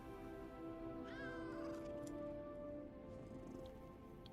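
A cat meowing in the video game Lies of P, a single drawn-out meow rising and falling over a steady droning background hum, fairly close but soft.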